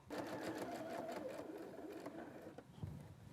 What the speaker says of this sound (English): And now we'll go stitch this line.